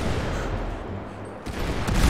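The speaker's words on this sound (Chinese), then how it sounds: "怎么会有爆炸声音？" Gunfire and blasts in the video game GTA 5 near the White House, a dense rumbling volley of shots and explosions, loud and continuous with a heavier burst near the end.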